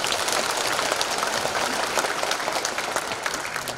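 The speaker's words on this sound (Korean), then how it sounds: "박수 한번 해주십니다" Steady applause from a church congregation at a thanksgiving worship service, dense and even clapping that holds at a constant level throughout with no voices over it.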